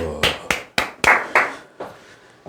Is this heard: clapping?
yes